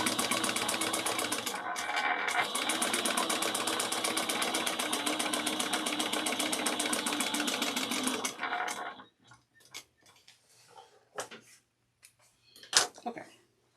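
A sewing machine stitching a seam on a handbag at a half-inch seam allowance runs in a fast, steady, even whir for about eight seconds, then stops, leaving a few scattered clicks and thumps.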